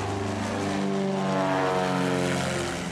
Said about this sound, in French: Le bruit du moteur à plein régime ne les fait pas fuir, au contraire.